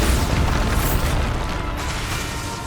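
A Bombarda spell detonates in Hogwarts Legacy with a dense, booming blast that fills the short stretch and rumbles steadily without fading.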